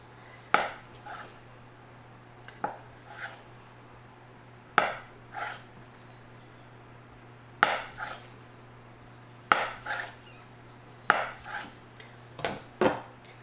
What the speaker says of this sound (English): I'm just going to cube these up. I just cut them in half